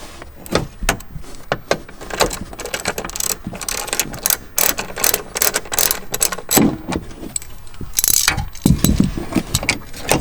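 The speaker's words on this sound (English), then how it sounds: "Now I've got my T50 on a ratchet" A ratchet turning a T50 Torx bit backs out a screw on a BMW M3 seatbelt fitting, giving repeated close, crisp clicking bursts with short pauses between runs.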